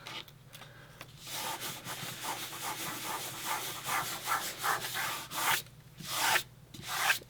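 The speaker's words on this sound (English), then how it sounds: "even if it does stick to my mat, and it does stick to my mat sometimes, I can just rub it off" Repositionable adhesive being rubbed off a crafting mat by hand, a close, dry scrubbing in quick uneven strokes that grow louder toward the end, with no talk.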